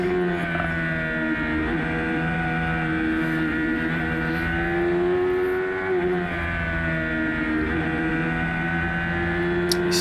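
A race vehicle runs the chicane at the NCBike track, its engine a steady, loud, harmonic drone heard close from onboard, with slight pitch dips and rises as it moves through the bends.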